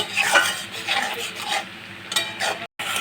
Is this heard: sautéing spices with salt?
yes